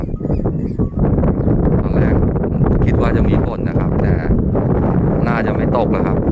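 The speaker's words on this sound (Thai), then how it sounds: "วันนี้ลมค่อนข้างแรงนะ" Strong wind on a road bridge above a railway in Thailand roars and buffets the microphone in a loud, continuous rush, with muffled voices faintly underneath.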